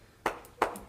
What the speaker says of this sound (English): That sounded like clapping